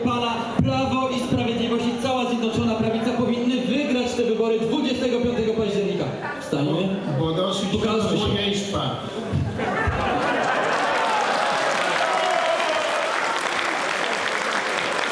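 A crowd at a political campaign rally in Płock breaks into sustained applause, a dense wash of clapping that swells over the final seconds after a stretch of amplified speech and chatter.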